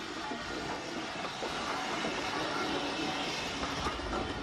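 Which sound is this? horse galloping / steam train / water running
steam train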